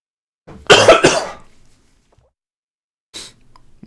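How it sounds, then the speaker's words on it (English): Two quick, harsh coughs close to the mic, then a short pause and one softer cough near the end. "now I've got more of a cough today"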